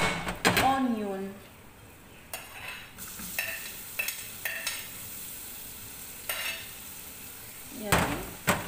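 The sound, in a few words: garlic and onion frying, stirred in a pan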